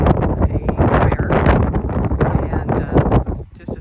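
Strong wind buffeting a microphone outdoors at the 1916 fire memorial in Cochrane, Ontario, heard as loud continuous rumbling gusts and thumps that bury everything else for the whole stretch.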